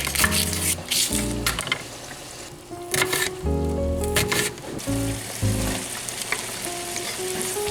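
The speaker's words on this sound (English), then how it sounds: "Cooking the ground beef here now" Ground beef sizzles and fries steadily in a pan on a home stove, a continuous crackling hiss broken by occasional stirring scrapes and clanks, with background noise running underneath.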